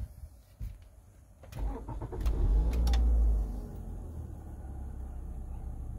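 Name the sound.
Toyota car engine starting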